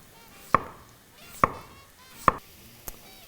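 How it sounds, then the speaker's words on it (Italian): Dried potatoes are sliced thinly with a knife, giving four crisp, evenly spaced cuts against the board, close and clear in a quiet room. "si prendono le patate, si asciugano e si affettano finemente"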